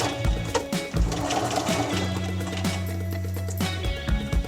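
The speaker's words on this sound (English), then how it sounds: "we're going to stitch just easily where the foot wants to come down" Sewing machine stitching a jeans hem, a close, rhythmic run of needle thumps that speeds up and slows, with a steadier hum through the middle as the fabric passes under the foot.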